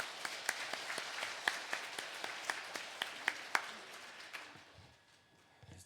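A church congregation at a Catholic Mass for the Feast of the Holy Family claps to welcome a priest. The scattered claps form a loose, fairly thin round that tapers off and stops after about four and a half seconds.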